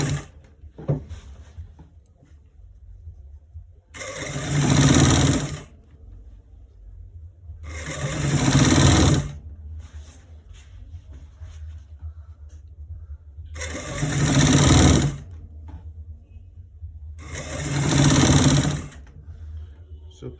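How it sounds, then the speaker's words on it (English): A sewing machine stitches a trouser's left front and back pieces together in four loud bursts of fast whirring, each a second or two long and separated by quieter pauses with faint handling noise. "So we are stitching it from the down to the top part."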